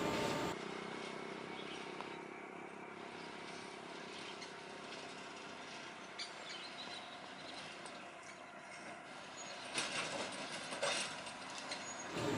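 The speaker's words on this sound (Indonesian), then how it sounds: "lokomotif melanjutkan perjalanan inspeksi jalur kereta lori menuju ke" A steady, low mechanical rumble of a slow-moving lorry locomotive on an overgrown sugarcane rail track, with broadband rattling and clatter, continuous throughout, with a few louder knocks near the end.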